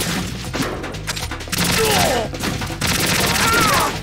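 AK rifle gunfire in Metal Gear Solid 2 comes in two sustained rapid bursts, loud and close. Chirping game effects and a faint voice are mixed in.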